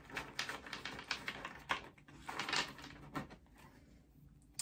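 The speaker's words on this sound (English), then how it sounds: "what a shuffle." A deck of oracle cards being shuffled during a tarot-style reading, quick riffling and tapping clatters in uneven bursts, close and fairly quiet, with a pause near the end.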